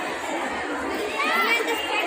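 A dense crowd gathered for Holi puja, with children shouting over steady chatter; a continuous, fairly close murmur of many voices that swells slightly in the second half.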